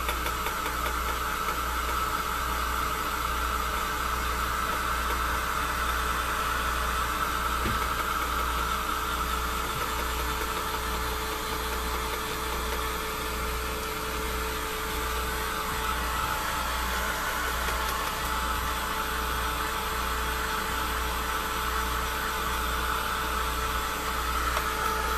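A dryer blowing air onto freshly painted lamp during a makeover, a steady loud whirring hum with a low throb that continues unchanged throughout.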